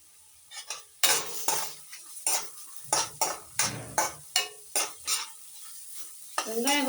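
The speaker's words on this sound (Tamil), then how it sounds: "வெங்காயம் கொஞ்சம் ப்ரௌன் கலர் ஆகிற வரைக்கும் வதக்குங்க கொஞ்சம்." Onions sautéing in a pan for a mushroom curry, a spoon scraping and clinking against the metal in a steady run of about a dozen stirring strokes over a low sizzle.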